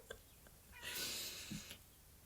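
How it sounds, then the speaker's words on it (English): A cat meows once, a fairly faint drawn-out call heard close by in a quiet indoor room, with a few soft bumps around it and no talking. "This cat really wants to be a part of these karma cards today."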